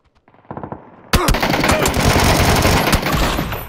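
In the video game PUBG, a few quiet shots are followed by a sudden loud burst of rapid automatic gunfire that rattles on continuously until the end.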